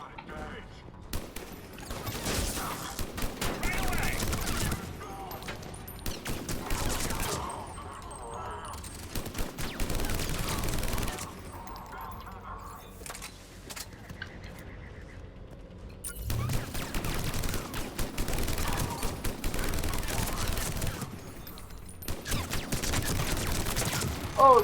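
Automated turrets in Mass Effect Legendary Edition spray rapid bursts of gunfire in several long volleys separated by brief lulls, loud and rattling, with a player's voice occasionally talking between the bursts.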